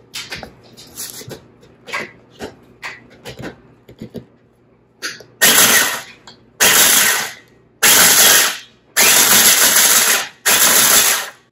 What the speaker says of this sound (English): I'm going to give this a quick grind